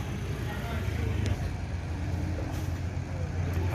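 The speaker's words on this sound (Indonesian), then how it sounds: "Inilah bus yang admin tumpangi sampai ke rumah makan Palapa." Inside a moving Sembodo bus with air brakes, a steady low engine and road rumble fills the cabin throughout, with faint hissing and rattles and some muffled voices in the background.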